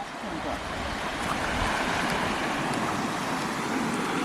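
Cold mountain stream water rushes steadily in the Kaz Mountains, a broad, continuous hiss and babble heard close by with no break.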